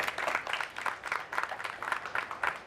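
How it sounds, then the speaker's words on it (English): Audience applause after a live line safety demonstration, a faint, distant patter of clapping in rhythmic bursts. "Let's give them a big round of applause."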